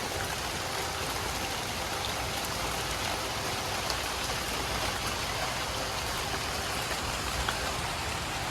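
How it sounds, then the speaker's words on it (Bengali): Steady rain pours outdoors in a Bengali village at midday, a dense, even hiss of drops on surfaces that holds constant throughout with no voices. "বাহিরেও এই যে দেখেন বৃষ্টি হইতেছে।"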